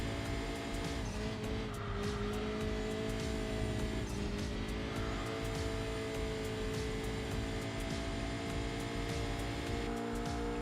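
Engine of a car in the racing video game Enthusia Professional Racing, a steady loud droning roar with layered harmonic tones holding continuously throughout, no talk.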